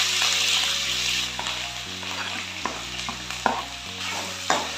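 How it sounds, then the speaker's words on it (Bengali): Capsicum, potato and chilli fry in a pan with bay leaf, a steady sizzle broken by repeated scraping stirs and light knocks of the spatula at irregular intervals. "হালকা হাতে নেড়ে নেবো"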